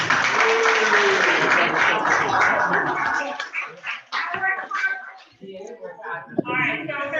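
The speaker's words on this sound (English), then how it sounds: "Give her a round of applause." Applause from the crowd at a Rotary Club sunrise morning meeting in Nassau: about three seconds of dense, steady clapping that thins out as a voice begins speaking over the room.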